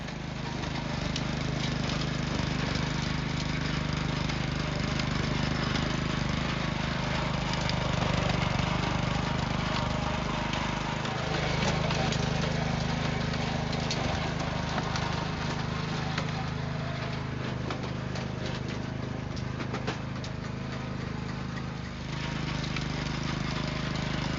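A borrowed walk-behind tiller's small gas engine runs continuously for the whole stretch, a loud, steady drone with rattling texture and slight shifts in load.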